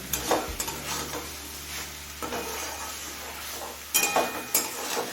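Fenugreek greens (methi) frying in a pan over high flame as a spoon stirs them, giving a steady close sizzle broken by scraping strokes and a few louder clinks near the end, with no talk.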